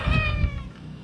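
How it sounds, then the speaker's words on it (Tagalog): A single short cat meow, close and fairly quiet, fading out at the end. "Sobrang balisa ng mga pusa niya."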